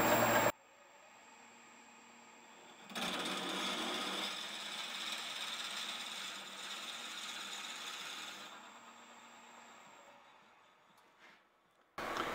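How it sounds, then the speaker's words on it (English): A drill bit bores into wood on a woodturning lathe as the quill advances, a steady rasping grind holding for about six seconds over the lathe's continuous hum. "I'm advancing that quill and just drilling that hole."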